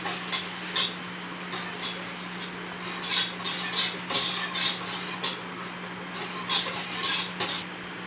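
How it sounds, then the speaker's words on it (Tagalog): A utensil stirs a jelly mixture in a bowl, making a rhythmic run of bright clinks and scrapes against the container, close and fairly loud, with a faint steady hum underneath and no voices. "hahaluin natin."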